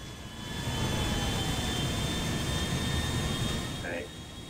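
A Boeing 747's jet engines roar steadily during a takeoff run in GTA V, a loud, sustained broadband rumble with a high whine that eases off near the end.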